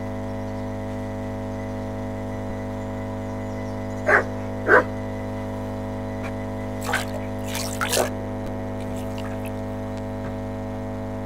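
In the medieval role-playing game Kingdom Come: Deliverance 2, a dog gives a few short barks, two spaced yaps and then a brief cluster, moderately near, over a steady droning ambient background.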